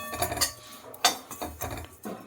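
Oats dry roasting in a pan for a healthy burfi, heard as close, intermittent clinks and scrapes of a utensil against the pan in short uneven bursts, without talk.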